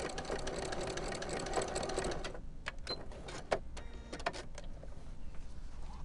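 Sewing machine back stitching a Christmas stocking, a steady close mechanical whir for about two seconds, then stopping into quieter fabric handling and a few sharp clicks.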